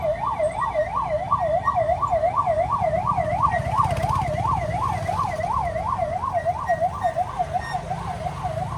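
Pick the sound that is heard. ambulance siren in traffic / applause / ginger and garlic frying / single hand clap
ambulance siren in traffic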